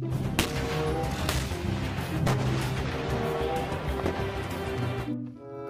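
Toy steel tank firing effect, a dense continuous barrage of loud booming blasts with sharp cracks that keeps up for several seconds, then cuts out abruptly near the end.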